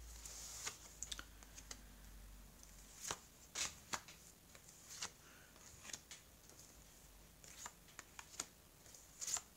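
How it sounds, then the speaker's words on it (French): Tarot cards are spread out on a table, with faint, close taps and soft slides of the cards coming in scattered bursts over a quiet background. "j'ai étalé les cartes"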